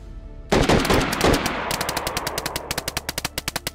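An SVD rifle fires in DayZ, starting with a loud echoing burst, then a steady run of sharp, evenly spaced shots that carries on to the end.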